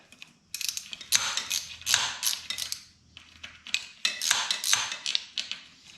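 A bandmill blade tensioner mechanism clicks and ratchets as it is tightened, with bursts of sharp metallic clatter in uneven clusters, close and fairly loud with short pauses between.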